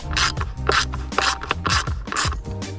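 An 8mm bit on a ratchet backs out headlight bolts on a BMW E39 528i, giving close, loud bursts of rapid clicking in a steady back-and-forth rhythm, about six strokes in quick succession.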